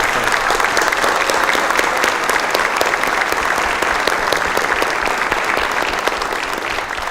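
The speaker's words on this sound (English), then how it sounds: "I wanted to give you a warm round of applause" Warm, sustained applause from the citizens of Hammond at a Mayor's Night Out gathering, a dense, steady clatter of many hands filling the room at even loudness from start to finish.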